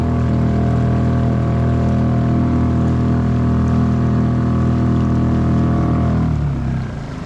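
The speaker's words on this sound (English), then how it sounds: "I'm gonna pass by that camera with just the motor on the back" A kayak driven by a single rear-mounted motor hums past at close range with a loud, steady droning buzz, and the pitch shifts and fades as it moves away at the end.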